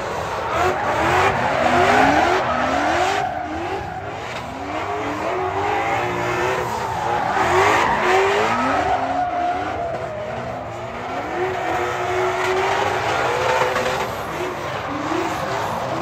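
Vaughn Gittin Jr.'s RTR Spec 2 car doing a burnout at the 2023 SEMA show, engine revving hard with continuous loud tire squeal and repeated rising and falling pitch sweeps, close and sustained.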